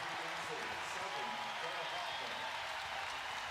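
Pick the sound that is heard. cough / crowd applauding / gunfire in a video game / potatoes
crowd applauding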